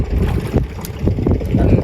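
A boat's engine drones steadily outdoors, mixed with wind buffeting the microphone and faint water noise.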